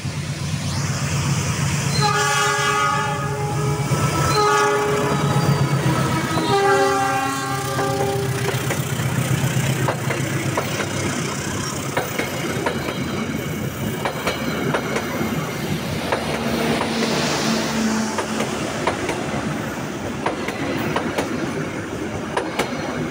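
A train passes close by near Parungkuda, Sukabumi, its horn sounding in several long blasts before the steady rumble and clatter of wheels on track continues.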